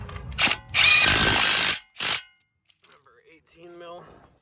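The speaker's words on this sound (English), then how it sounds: "I'm gonna run them home with the impact" Impact wrench running home the caliper bracket bolts on a 2017 Chevrolet Trax during rotor replacement, with a short burst and then a longer loud buzzing run, followed by a brief final hit and quiet talk.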